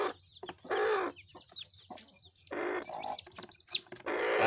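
Hens cluck close by while newly hatched chicks chirp and peep, a busy mix of short clucks and high tweets in irregular bursts.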